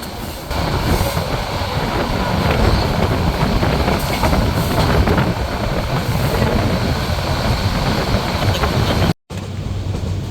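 Parjotak Express train rolling through Ghorashal Flag railway station, a steady loud rumble and clatter of wheels on rails with faint squeals, continuous until a brief dropout near the end.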